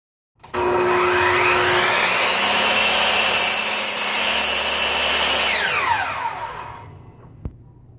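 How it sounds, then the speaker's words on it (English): A miter saw cuts through wood as part of building a cross-cut sled, a loud, sustained whine that spins up and then winds down, ending with a short knock. "back to the miter saw"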